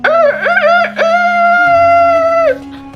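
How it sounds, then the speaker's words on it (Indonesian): A rooster crows loudly and close, one long drawn-out cock-a-doodle-doo with a rising opening, used as a sound effect in a children's story, with no talk over it. "ayam berkokok."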